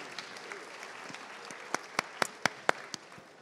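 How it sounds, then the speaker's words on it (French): An audience at a pastry fair round-table applauding a sociologist guest, a modest smattering of claps that grows into a few louder, sharper claps near the end, fairly close. "Merci de l'applaudir."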